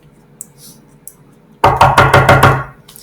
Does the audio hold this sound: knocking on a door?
yes